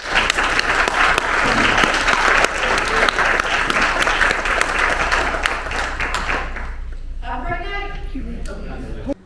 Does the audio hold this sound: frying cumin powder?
no